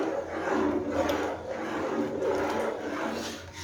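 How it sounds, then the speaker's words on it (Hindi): A spoon stirring a milk mixture for kulfi falooda in a pan over a low flame, producing a continuous soft rasping swish in repeated strokes, close and quiet. "चम्मच चलाना है मुसलसल, रोकना नहीं है"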